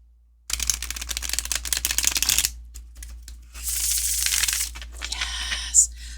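A tarot card deck with stiff cardstock being shuffled, giving two bursts of dense, crackling riffle noise separated by a short pause, close and fairly loud, with no talk.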